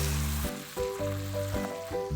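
Puréed tomato from two blended tomatoes sautéing in a pan over cooked onion, a steady loud sizzle with a few stirring pulses, no talking.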